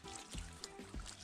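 Water pours and trickles over a handmade wooden sugar cane juicer on a farm, a close, steady wash lasting about a second with a few louder splashes.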